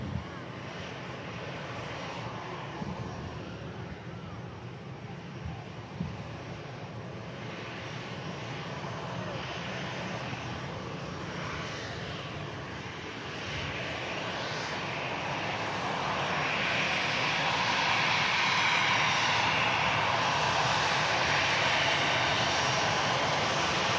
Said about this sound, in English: ATR floats from 23 left.